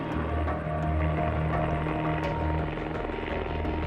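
Helicopter flying low, just meters above a snowy mountain slope during a search and rescue operation, its rotor and engine a loud, steady, close drone with no voices.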